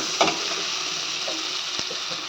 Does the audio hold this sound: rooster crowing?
no